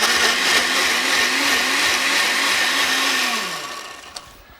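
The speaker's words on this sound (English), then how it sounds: "We've had input, we've stored it in the blender. I'm ready to process it" A blender runs loud and steady, whirring at full speed for about three and a half seconds before its motor winds down and stops.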